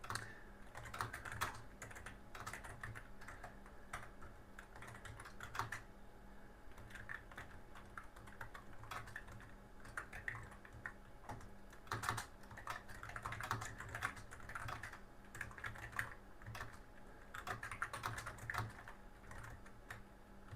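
An Atari ST / Falcon computer keyboard is typed on in steady bursts of clicky keystrokes, close and fairly quiet, with brief pauses between runs of keys.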